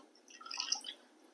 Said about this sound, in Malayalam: ലേശം വെള്ളം ഒഴിച്ചു കൊടുക്കുക